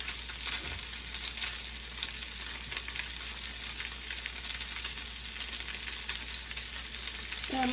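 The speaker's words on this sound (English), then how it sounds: "I'll be right back after this is seared." Salmon fillets searing in a pan, a steady hissing sizzle that holds evenly throughout, close and moderately quiet with no voices.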